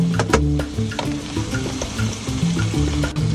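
Onions sizzle steadily in a pan while cooking in a minivan, with close, busy crackling and repeated clattering strokes of stirring.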